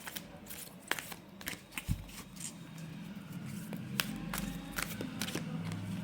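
Oracle cards are shuffled by hand in a quiet room, a run of soft, quick papery riffles and slaps, fairly close and faint, with irregular taps between bursts.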